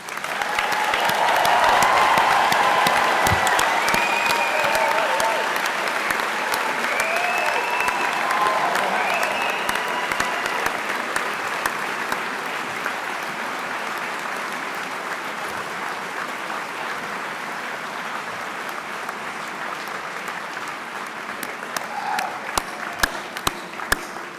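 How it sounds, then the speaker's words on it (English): A large audience at a university commencement ceremony applauds graduates with sustained, dense clapping that starts loud and gradually thins out, scattered individual claps standing out toward the end. "I invite those in the audience to join me in applauding your success"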